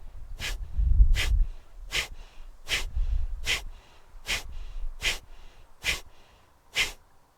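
Forceful Kapalabhati breathing exercise: a run of about ten sharp, rhythmic nasal exhalations, evenly spaced and close to the listener, each a short airy puff, with softer breathing sounds between them.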